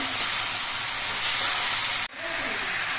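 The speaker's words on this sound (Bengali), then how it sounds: "চাল কুমড়োটা দেওয়ার পর নেড়ে চেড়ে তেলের সঙ্গে বেশ ভালো করে মিশিয়ে নিতে হবে" Ash gourd pieces with green chilli fry in oil, giving off a loud, close, continuous sizzling hiss. The roar dips sharply for a moment midway as it is stirred, then resumes.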